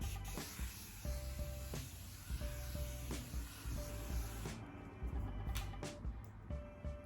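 Makeup setting spray mists out in a series of short, close hissing bursts, several pumps in quick succession.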